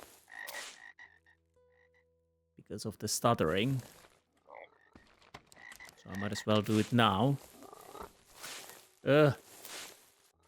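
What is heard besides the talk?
frogs croaking in a video game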